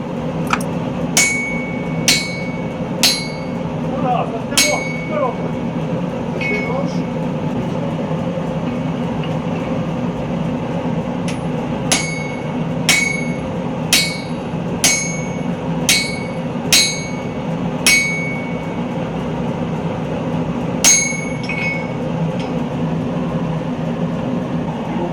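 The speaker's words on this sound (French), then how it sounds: "L'utilisation des étampes va permettre d'obtenir la forme définitive." Sharp metallic hammer blows ring out on a heated damascus steel sword blade worked in swage dies, coming in irregular clusters of strikes with pauses between, over a steady low forge roar.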